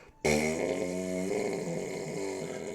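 A voice makes a long, wet, gurgling blurt that shifts pitch in steps, imitating thick sludge being forced along a pipe.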